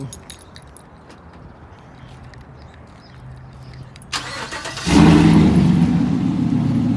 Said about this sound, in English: I'm gonna turn on my truck.